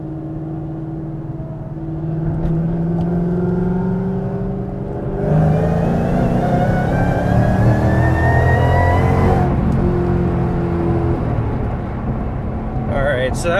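Ford Mustang GT500 with a Lund Racing tune pulling off an on-ramp, its engine note climbing in pitch as it accelerates hard, loud and close throughout, with a surge in intensity midway.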